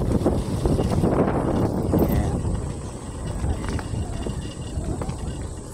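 Gusty wind buffeting the microphone outdoors over open farmland in Barangay Bulitok, loud rumbling bursts that ease off toward the end, with no voices.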